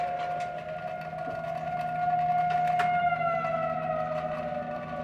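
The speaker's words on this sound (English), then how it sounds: "There's the horn." A 1971 Plymouth Road Runner's car horn blares as one steady, sustained tone lasting several seconds, loud and close.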